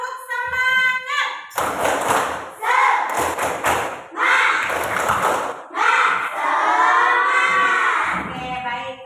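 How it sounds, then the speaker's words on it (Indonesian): Primary school pupils in an Indonesian classroom perform a rhythmic spirit-clap chant before a lesson: loud bursts of group clapping alternate with shouted, sung chant phrases, all close and energetic. "kita coba dulu tepuk semangat dulu."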